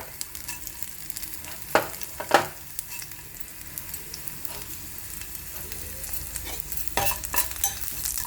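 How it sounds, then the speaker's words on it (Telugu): Mustard seeds and urad dal fry in hot oil with a continuous crackling sizzle, broken by sharp popping spikes and scraping stirs close up, with no talking. "వచ్చిన తర్వాత ఆవాలు మినపప్పు వేయాలి"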